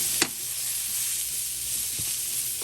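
Chopped onions sizzle in a hot pan while getting a light char, a steady broad hiss running throughout with a couple of brief stir clicks near the start and end.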